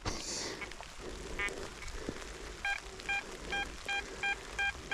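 An XP Deus metal detector signals while someone digs for coins, first with soft scraping and rustling, then a run of about six short, evenly spaced electronic beeps, fairly faint.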